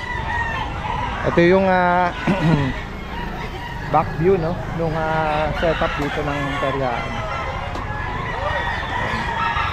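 Chickens cluck and a rooster crows amid a busy outdoor pet market in Bocaue, with a person talking over the steady background hubbub.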